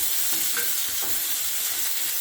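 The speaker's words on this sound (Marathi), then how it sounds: "कांदा छान परतून घ्यायचा आहे गुलाबी रंगावर" Onion sautéing in ginger-garlic paste in a pan for a cashew curry: a steady broadband sizzle with intermittent scraping stirs of a spoon, close and continuous, no voices.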